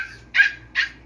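A German Spitz Pomeranian gives three sharp, high yapping barks in quick succession, close and loud, with no voices over them.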